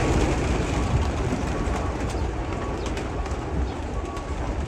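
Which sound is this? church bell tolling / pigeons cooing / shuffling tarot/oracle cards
pigeons cooing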